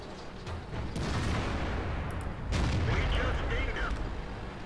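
Tank cannon fire is exchanged in the video game World of Tanks, with heavy booming shots and rumbling blasts over continuous battle noise, while a player talks over it.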